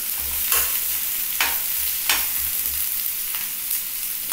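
Tomato, potato and green chili frying in a pan for a fish and egg curry, a steady close sizzle broken by several scraping stirs at irregular intervals, with no talking.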